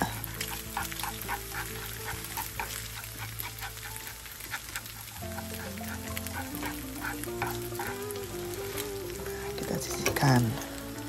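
An egg fries in hot oil for salted-fish fried rice, giving a steady crackling sizzle with bursts of spatter and a brief louder hiss near the end. A tonal hum runs underneath and there is no talking.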